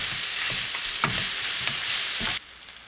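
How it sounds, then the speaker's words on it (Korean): Golden zucchini and fish cake stir-fry in a hot pan, giving a steady bright sizzle broken by repeated scraping stirs of a utensil, until the sizzling drops away abruptly near the end. "어묵에 양념이 다 스며들면 주키니 호박을 넣어 볶아줍니다."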